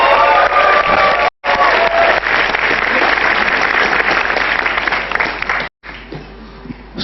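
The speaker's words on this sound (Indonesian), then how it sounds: "Kalau begitu boleh tepuk tangan untuk Cah Lontong." Audience at a stand-up comedy show breaks into loud, sustained applause with some cheering, a dense crowd clapping that carries on for several seconds, with a brief cut and a quieter tail near the end.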